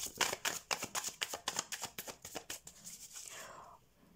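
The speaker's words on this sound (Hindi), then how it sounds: "तो सबसे पहले हम आपके करियर के लिए कार्ड्स निकाल लेते हैं" A deck of tarot cards is riffled and shuffled in a quick run of about fifteen crisp, close flutters at an even rhythm, then a softer slide as a card is drawn, with no talking.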